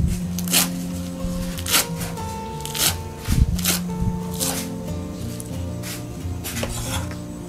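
A knife cuts Chinese celery into pieces on a board, giving irregular sharp taps and clacks spaced about a second apart, close and moderately loud, with faint kitchen clatter between strikes.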